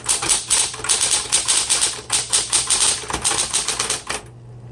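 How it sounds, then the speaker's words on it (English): Keys clack steadily on a 1970s Smith Corona Electra 120 electric typewriter fitted with a red ribbon, a fast, close, even rhythm of strikes over the machine's low motor hum, which continues alone at the end. "All right, let's keep typing. I'm going to try the red ribbon now."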